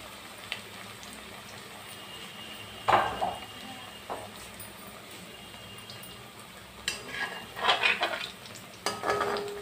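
Potato pakoras fry on a low flame in a pan, a soft steady sizzle broken by a few bursts of stirring and turning, with louder scraping clusters near the end.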